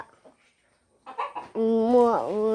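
A hen among other chickens on a Kerala farm, with a few short clucks followed by a longer drawn-out squawking call that rises and dips, fairly close and alone.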